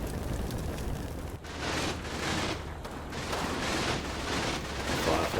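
Distant, muffled gunfire and explosions from a firefight in an orchard in the video game Combat Mission Battle for Normandy, continuous rumbling bursts under a constant low din.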